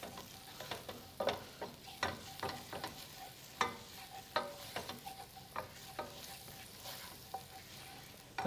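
Berbere and curry powder sizzle steadily in a hot pan while a utensil scrapes and knocks through them in a quick, uneven rhythm of clear, close stirring strokes; no one speaks.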